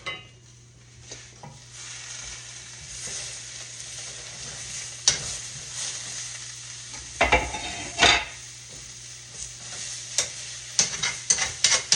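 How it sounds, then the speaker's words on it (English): Collards slow-fry in a pan, a low sizzle under an electrical hum punctuated by clinks of a utensil against the pan and occasional stirring bursts, close and fairly quiet. "We're going to slow fry it."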